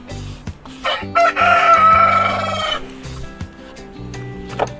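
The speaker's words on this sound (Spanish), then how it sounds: "El gallo sí que está afónico." A hoarse rooster crows once, a raspy, strained call in the middle, with clucking fowl and other birds around it and no talk.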